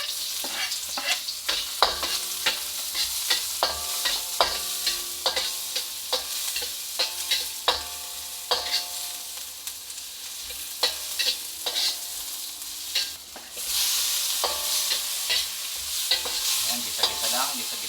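Onions sautéing in a hot pan for binagoongan, a steady loud sizzle broken by repeated sharp scrapes and clacks of a utensil stirring against the pan, with no talking.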